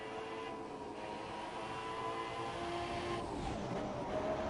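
Sauber Ferrari race car engine in a racing video game at the Australian GP, a steady loud droning whine running throughout with slight pitch shifts near the end.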